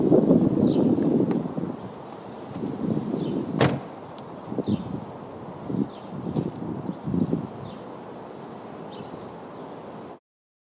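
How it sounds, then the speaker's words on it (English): On a BMW 435i convertible (F33, 3-liter inline six), the window hums down and the door unlatches and swings open, with several sharp clicks and thumps over breezy outdoor wind noise and no voices. "and the second pull opens the door."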